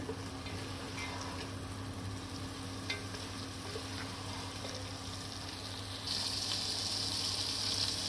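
Onions and okra fry and get stirred in a pan for masala bhindi, a steady close sizzle with scraping stirs throughout and a brighter hiss rising in the last two seconds; no talking.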